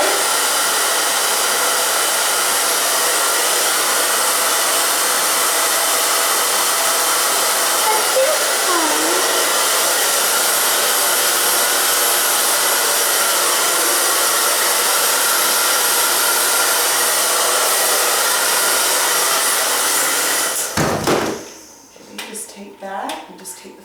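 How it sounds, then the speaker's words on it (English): A hair dryer blows steadily at close range while hair is styled, a loud constant whoosh lasting about twenty seconds before it switches off and brief handling sounds follow. "blow dry"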